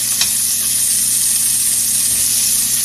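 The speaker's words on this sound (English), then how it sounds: "I will just put regular bacon in the pan instead" Bacon sizzles and crackles loudly and steadily in a hot pan, a close, continuous hiss with no pauses.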